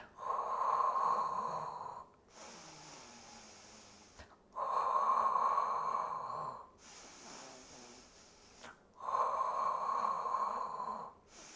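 Slow, deep breaths during a beginner Pilates workout, three long airy exhales of about two seconds each, each followed by a quieter inhale, close and steady with no talk.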